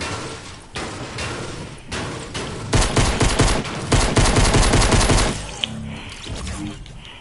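Rapid bursts of gunfire in a video game, a dense run of sharp shots that builds to a loud continuous volley, then trails off into quieter game sounds.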